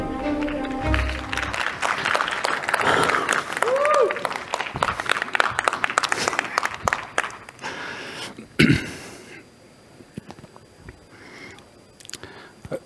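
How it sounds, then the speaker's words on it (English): Audience at a cryptocurrency conference expo applauds a speaker onstage, with dense clapping that holds for several seconds and then thins to scattered claps and quiet room noise. "a round of applause"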